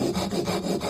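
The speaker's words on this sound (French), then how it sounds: "je vais commencer à scier en restant dans le rail" A hand saw cuts through wood in steady back-and-forth rasping strokes, close and continuous with a rhythmic grinding texture.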